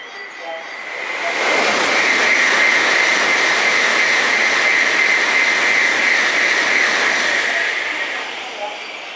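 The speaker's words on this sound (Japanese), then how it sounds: "ただいま電車が通過します。" A Hankyu 9300 series train passes through Kammaki station, a rising then fading roar of wheels and rushing air that swells to a loud, sustained rumble before dying away.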